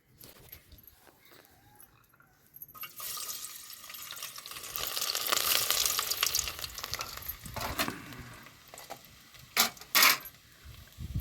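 Garlic dropped into hot oil for vegetable fried rice: a sizzle swells and fades with stirring scrapes, then sharp metallic clinks near the end, close and moderately loud, no talk.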